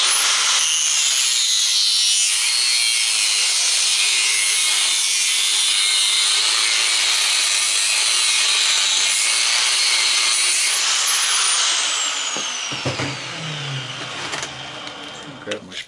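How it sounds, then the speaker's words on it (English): Harsh, continuous grinding cut through the cast iron casing of a small fridge fan motor, loud and close for about twelve seconds before easing off into scraping and handling noises. "So when I cut here, I'll also cut down this other side."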